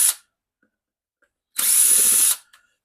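A power drill whirs in one steady burst of a little under a second, close and loud, backing big screws out of a GPZ-7000 metal detector during a teardown; a shorter whir opens the clip, then quiet.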